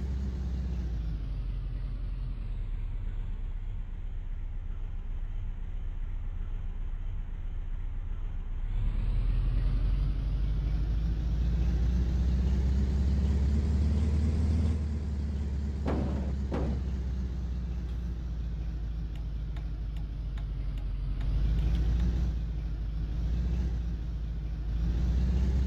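A pickup truck in the video game Flashing Lights gives off a steady low engine rumble while driving, swelling and easing over time, with a few brief knocking rattles midway.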